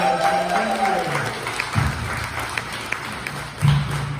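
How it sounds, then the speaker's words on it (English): An audience at a 2021 Wounded Warrior speaking event with the Medina County Auditor applauds for Megan, a broad clapping wash rising under and after a closing spoken phrase, steady with a few louder bursts. "Let's have another round of applause for Megan."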